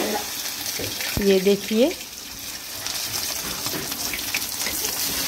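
Batter-coated aari fish fries in a pan with a steady, close hissing sizzle throughout, while a person speaks briefly over it.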